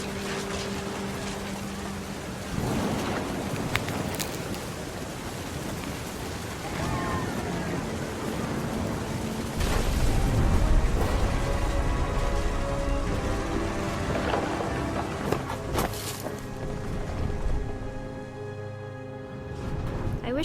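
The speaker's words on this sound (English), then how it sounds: "The thunder sounded much too close and full of angry power." Rain pours steadily in the video game What Remains of Edith Finch, with a deep thunder rumble swelling midway beneath the continuous downpour.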